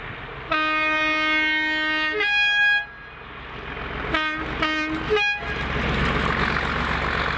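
Class 37 locomotive 37800 hauling an ex-Capital Connect class 321 unit, 321402, in Scotland sounds a long two-tone horn blast, then a short toot, followed by several quick horn toots over a rising rumble of the passing train.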